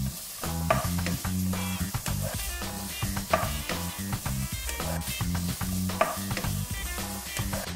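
Seasoned zucchini for bibimbap being gently mixed with garlic, chopped green onions and sesame oil, giving a steady run of soft stirring and clinking kitchen sounds with no speech.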